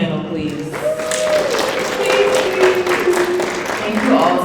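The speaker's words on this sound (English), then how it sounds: "Round of applause for the panel, please" A convention audience at a Dream Con fandom panel claps steadily throughout, dense and moderately loud, with people talking over the applause.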